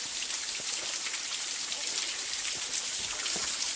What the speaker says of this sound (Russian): Вот он, водопад Виктория.